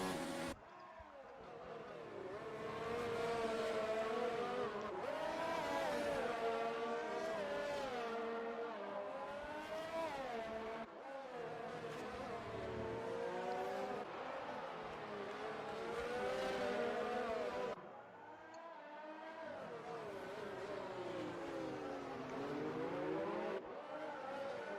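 Race cars lapping the Monaco street circuit in a racing video game, their engines whining loudly and continuously, pitch climbing and dropping through rapid gear shifts as cars run close together.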